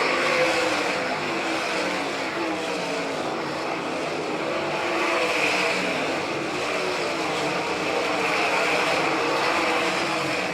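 Sprint cars racing on a dirt track at Doniphan, Nebraska, their engines a continuous loud roar, with a commentator talking over the noise.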